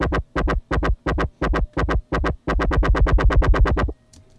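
Dub number 1, a bass instrument from Sample Logic Tronix, plays a loud, evenly spaced run of short, punchy wobbling notes that merge into a faster continuous stutter before cutting off abruptly.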